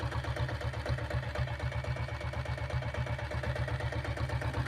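A 2000 model TVS Taurus motorbike runs at slow speed. The engine gives off a close, steady, evenly pulsing low thump with no voices.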